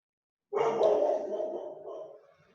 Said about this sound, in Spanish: voy a calmar al perro porque no se escucha nada